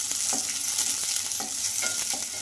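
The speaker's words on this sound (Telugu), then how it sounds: "ఇంకా ఆయిల్ కూడా హీట్ అయిందండి. ఇందులోకి ఉల్లిపాయ ముక్కలు అయితే వేసుకోవాలి." Finely chopped onions fry in hot oil in a kadai with a close, steady sizzle, while a spoon scrapes and stirs in repeated short strokes.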